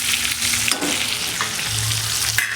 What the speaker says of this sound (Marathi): यामध्ये वांगे तळायलेत ना